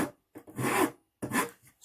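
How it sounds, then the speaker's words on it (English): Rasp filing wood to level a finger joint, heard as two close, coarse rasping strokes, each a gritty scrape lasting about half a second, separated by a short pause. "I can always get a rasping."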